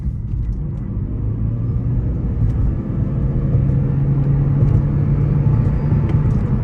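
A 2015 Lexus CT200h F-Sport hybrid engine hums and rumbles steadily from inside the cabin, the low drone building slightly as the car speeds up.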